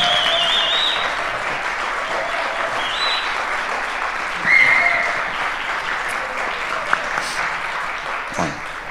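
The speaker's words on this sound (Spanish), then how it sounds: "Que siga el aplauso hasta que se siente" Sustained, loud applause from a convention crowd at Starraco Unlimited 2023 for the Spanish dubbing cast of Cobra Kai, dense clapping with scattered whistles and shouts, steady for the whole stretch.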